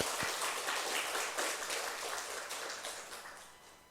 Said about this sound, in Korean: 우리 청년들을 위해서 우리 박수를 한번 격려하면 좋겠습니다